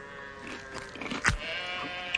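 Sheep in a cave in an animated episode: soft, slightly reverberant bleats with a sharper cry near the middle, over a low hum with no talk.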